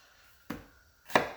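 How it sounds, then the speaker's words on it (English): Two sharp knife chops on a cutting board as vegetables such as onion are cut for Jamaican stew peas, each a crisp close thud with a short tail, about half a second apart. "I start chopping up some stuff off camera"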